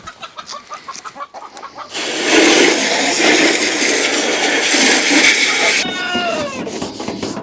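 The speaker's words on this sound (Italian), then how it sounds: "Le galline" Hens cluck in a garden coop, short close clucks and calls at the start, then a loud rustling scrape of feed being scattered, with a rising hen call near the end.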